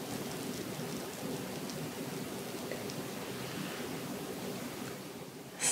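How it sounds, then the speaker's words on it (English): Homemade apple cider vinegar fermenting in a glass jar gives off a steady, close fizzing hiss of tiny bubbles that continues unbroken throughout. "You hear the bubbles?"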